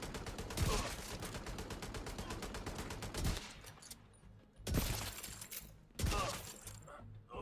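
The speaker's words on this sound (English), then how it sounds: "You also get to use the M700, which is a great sniper in my opinion." Sniper rifle shots in The Division 2 video game, an M700 firing several loud cracking reports at irregular intervals, the first shots closer together, later ones spaced a second or more apart with quieter gaps.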